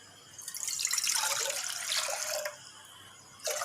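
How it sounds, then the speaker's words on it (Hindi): Water pours in a bright, splashing stream into a warm frying pan, two cups' worth going in back to back with a brief pause before a second burst, close and alone. "ऐसे हम 2 कप पानी के डालेंगे।"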